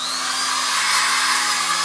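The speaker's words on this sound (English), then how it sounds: "It's 2500 RPM on the drill." A steady, high-pitched whine of a power drill spinning continuously at 2500 RPM, loud and close, with a wire-brush hiss over it as it cleans a brake caliper on a 2000 Toyota Solara; no talking.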